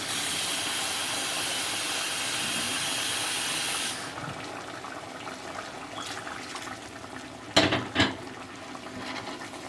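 Water poured into a hot pan of fried potatoes and carrots for an Ethiopian stew, with a loud steady hiss for about four seconds, then a quieter simmer and a couple of sharp clanks near the end.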